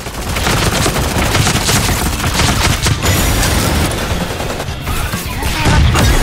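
Dense, continuous gunfire from the mech battle game Super Mecha Champions, rapid automatic bursts and heavy shots layered together at steady loudness throughout, with no talking.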